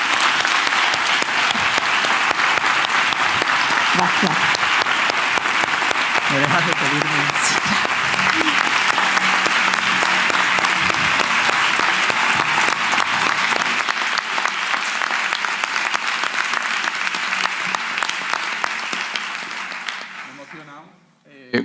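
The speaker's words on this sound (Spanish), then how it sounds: "Un fuerte aplauso." Loud, sustained applause from a conference audience fills the room for about twenty seconds, thinning out near the end, with a voice briefly speaking over it.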